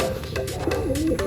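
Racing pigeons coo near a home loft during a first-lap sprint race, with soft, close, repeated calls over steady background noise.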